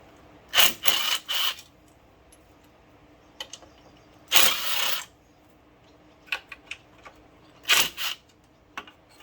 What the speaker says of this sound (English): It's a 1/4 inch impact. So let's see how she does.